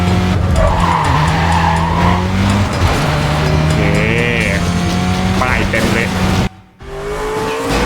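Car engine roaring with tires skidding and squealing in the racing video game Need for Speed Carbon, loud and continuous with a brief dropout near the end, under someone talking.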